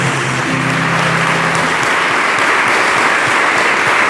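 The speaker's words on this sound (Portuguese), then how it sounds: "A igreja de pé, louvando a Deus com palmas, por favor" A standing church congregation claps in praise to God, a loud, dense, continuous applause with a voice briefly heard near the start.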